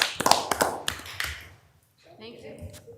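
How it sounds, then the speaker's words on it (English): Brief round of applause from meeting attendees in a room: a short burst of scattered, close hand claps that dies out after about a second, followed by a quiet gap and then someone speaking. "So wanted to give you guys a round of applause."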